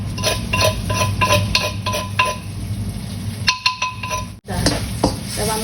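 Chili and pounded garlic frying in oil in a pan while being stirred, close-up scraping and clinking of a utensil against the pan over a steady sizzle, with a brief pause before the clatter resumes.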